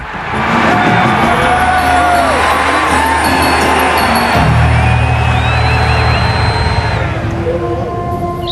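A crowd cheers and shouts enthusiastically at an ancient Egyptian festival procession at Karnak, greeting a life-giving god. The loud, continuous mass of voices and whoops runs the whole time, mixed with music and bangs.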